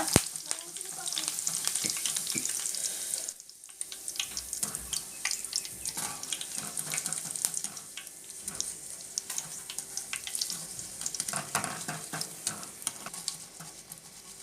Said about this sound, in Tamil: கருவேப்பிலையும் இதேமாதிரி எண்ணெயில் நல்லா பொரித்து எடுத்துக்கோங்க